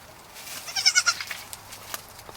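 Young goats bleat in a short cluster of high, wavering calls up close, followed by quieter rustling and small noises on a farm during their first day with new owners.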